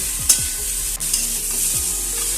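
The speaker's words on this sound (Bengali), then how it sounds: "দিয়ে এটাকে আমি আবারও ভালো করে নেড়ে নেব" Spinach curry sizzles in a pan while a spatula stirs it, giving a few quick scraping strokes over a steady hiss. The sound is close and fairly loud.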